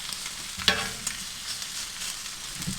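Vegetables sizzling on an Aldi Kamado grill, a steady close frying hiss with a couple of sharp clicks of tongs or spatting fat, no voices.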